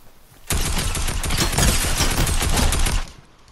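Dense, continuous burst of gunfire and explosive grenade blasts from a Fortnite match, loud and chaotic for about two and a half seconds before cutting off abruptly.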